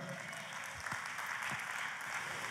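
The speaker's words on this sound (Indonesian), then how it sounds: "Tepuk tangan untuk Tuhan." Steady applause from a congregation at a church service, a dense wash of clapping at moderate distance with no voices on top.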